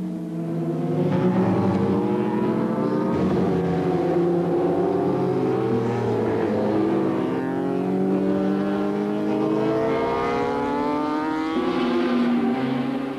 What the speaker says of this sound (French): Devant, la course est partie très vite. Les Suzuki à la poursuite des machines de tête.